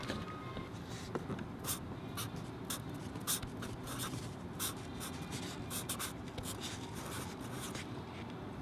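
A Sharpie marker scratches steadily across a surface at close range, with quick strokes and small taps repeating over several seconds and no voices.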